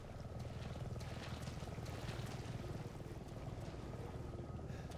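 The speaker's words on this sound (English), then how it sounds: "Oh, the helicopters." Helicopter rotors in the video game Resident Evil 7 produce a steady, continuous low drone that holds throughout at moderate level, with broadband whooshing noise over a rhythmic low-frequency chop.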